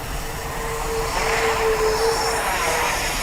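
An Arrows Hobby MiG-29 radio-controlled model with a 64mm electric ducted-fan jet whines steadily as it comes in to land with power, a sustained hissing rush that swells slightly and stays clear of talk.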